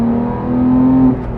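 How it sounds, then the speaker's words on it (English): Porsche 911 GT3 (991.2) with its 4-liter naturally aspirated flat-six at the rear and the exhaust valves open, giving a steady, loud engine drone that climbs slightly in pitch, heard alone without speech. "These cars do have an option where you can open and close the exhaust valves. I'm gonna keep mine open."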